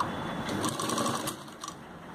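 A sewing machine stitches the side seam of an umbrella kameez in a steady, fast whir that runs close and unbroken, with no talking over it.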